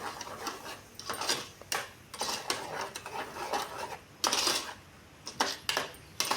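A utensil scrapes and clinks repeatedly against a pan while onion chutney is stirred, a quick irregular series of metallic taps and scrapes, close and fairly clear.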